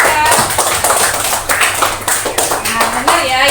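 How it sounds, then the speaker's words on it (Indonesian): A classroom of students claps for a classmate, loud, close, uneven hand claps, with voices talking over the clapping. "tepuk tangan dulu untuk Aisyah."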